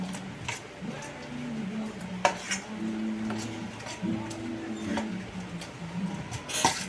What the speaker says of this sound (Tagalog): Haluin ko na ng haluin